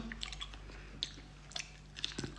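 Close, quiet chewing of reindeer liver, with soft wet squishes and a few sharp bites spaced through a short stretch of mouth sounds and no talk.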